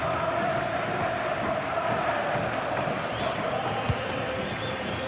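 A football video game stadium crowd roars steadily in FC 26 during a Europa League round-of-16 match, FC Porto against Dover FC, as a dense, continuous wash of cheering that sits at an even level throughout.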